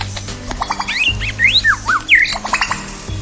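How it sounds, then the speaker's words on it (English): Lyrebird calls: a run of sharp, sweeping whistles and squawks in quick succession, fairly close and loud, with a steady low background hum underneath. "I am a lyrebird. LYREBIRD."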